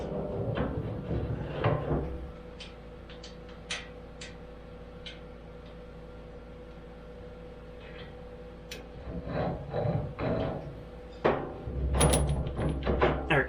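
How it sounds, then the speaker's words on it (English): A steel key slides into the keyway of a Delta Rockwell Unisaw part, giving sparse, close metallic clicks and taps, with a few scraping handling bursts at the start and end and quiet gaps in between. "I'm going to try just sliding the key in after."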